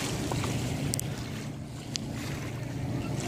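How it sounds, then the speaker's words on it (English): Boats out on Gull Lake near the north end, heard as a steady low motor drone under wind buffeting the microphone, with faint water and a few brief higher chirps, no talking. "A lot of boats out here today."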